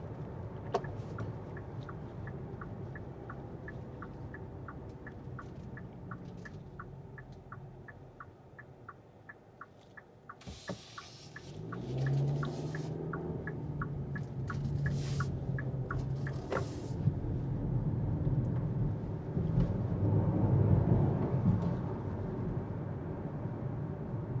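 Road and wheel noise inside a 2026 Kia Seltos EX while driving, a low steady rumble with rhythmic ticking early on and a rise in drone partway through.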